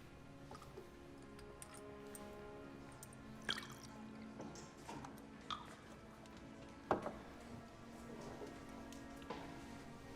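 Ink drips into a glass of water during a courtroom closing argument, a few faint, soft drip and plink sounds scattered over quiet background.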